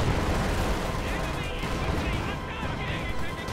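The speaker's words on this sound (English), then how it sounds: "ML-20 is bombarding this area and gets a huge hit on that Panzer Grenadier squad." ML-20 artillery bombardment in a World War II strategy video game, a dense, continuous roar of explosions and gunfire filling the whole clip, loud and unbroken.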